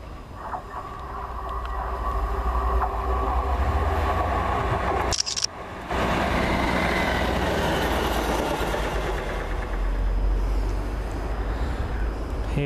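A train rumbles steadily nearby as it pulls into a Scottish station, with a continuous roar of wheels and engine and a brief break partway through.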